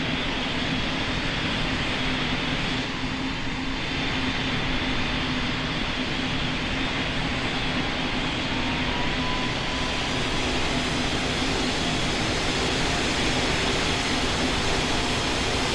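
An airliner takes off in the Roblox game PTFS, giving a loud, steady engine roar with a broad rushing hiss that holds for about sixteen seconds. There is no talking over it.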